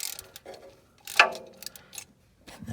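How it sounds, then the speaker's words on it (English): A hand ratchet loosening alternator mounting bolts under a car, a few quick clicking ratchet bursts separated by short pauses, close and fairly loud, with no talking. "Loosen this one up a lot with your ratchet."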